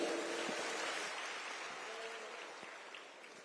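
An audience claps loudly for the deputy chief minister at a groundbreaking ceremony for the Jamphal Dam water-supply works in Dhule, with dense, sustained applause that slowly fades a little, crowd noise, no clear talk.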